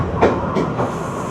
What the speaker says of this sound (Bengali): চলে এসছে আমাদের ট্রেন মারাডোনা রেলওয়ে স্টেশনে